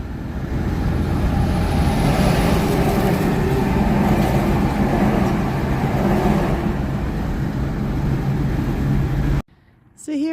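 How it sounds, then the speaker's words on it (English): Steady broadband rumble of highway traffic from a rest area campground, a continuous low roar of passing vehicles that fills the background before cutting off abruptly near the end. "You can hear the highway traffic, but no biggie"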